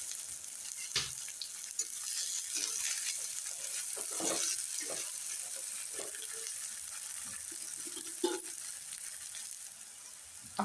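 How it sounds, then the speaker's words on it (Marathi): Chopped onion fries in hot oil in a pan after mustard seeds have crackled, giving a steady close sizzle with occasional pops and stirring scrapes, and no voices. "आपण आता कांदा टाकून घेऊ बरं का. बघा आणि कांदा कमी गॅसवर, जरा असा मीडियम गॅसवर तांबूस असा भाजून घेऊ."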